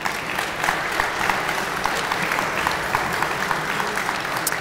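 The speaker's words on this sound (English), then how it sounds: "So a round of applause, please." Steady, even applause rolls through a gala crowd honoring a benefactor, many hands clapping at a moderate distance with no voices over it.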